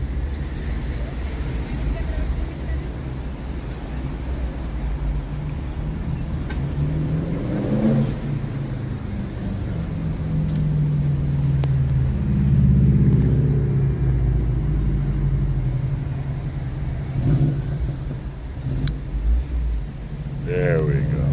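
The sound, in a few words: car engine while sitting in traffic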